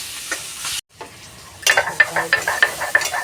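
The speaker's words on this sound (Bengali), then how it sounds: "কড়াতে চিংড়ি মাছগুলো তুলে দেওয়া হলো চিংড়ি মাছগুলো এবার লাল লাল করে ভেজে নেবে" Prawns fry in a wok with a bright, close sizzle that briefly cuts out, then returns as a rhythmic series of stirring scrapes and spatters, loud and without speech.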